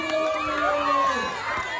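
Crowd at a lucha libre wrestling show cheering and shouting, a dense roar of many voices with children's shouts and whistles running steadily throughout, with no clear clapping standing out.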